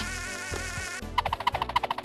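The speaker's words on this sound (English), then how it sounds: "These are the crickets, and yes, they hurt you." Crickets in the Rayman video game chirp in a fast, evenly spaced series of bright pulses that begin abruptly after a sustained buzzing tone, loud and close with no talk.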